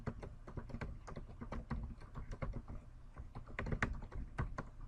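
Rapid clatter of keystrokes on a computer keyboard while an email address is entered, the taps close and fairly quiet, continuing steadily with no speech.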